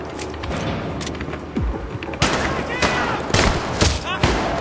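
Gunfire in the video game Syndicate, with several sharp shots and bursts rising over a busy background of game sounds and effects, loud and close, irregularly spaced.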